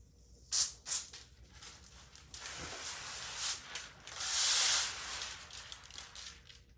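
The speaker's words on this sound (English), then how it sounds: "So spray again." Several quick sprays from a pump bottle hiss close by, with clicking trigger pulls and one longer burst in the middle, while tinting the back window of a 2002 Camaro.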